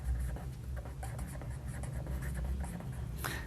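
A teacher writes on a board during a class 10 physics lesson on the reflection of light. Short scratchy strokes come close and steady, with a louder swipe near the end and no talk.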